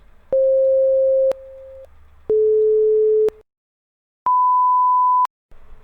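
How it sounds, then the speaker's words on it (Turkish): A VB.NET program generates pure sine tones, including one at 532 Hz. Steady electronic beeps of about a second each play in sequence with short gaps, and the last one is higher-pitched, clean and loud. "Şurada 532 Hz e, sanki bir telefonun açtığınız zaman çalma sesi gibi"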